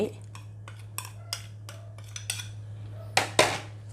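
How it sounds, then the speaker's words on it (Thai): Marinated chicken being tossed with seasoning and garlic for black pepper grilled chicken: light clinks of a utensil against a bowl every half second or so, ending in two louder knocks, over a steady low hum. "แล้วก็คลุกนะคะให้เข้ากัน"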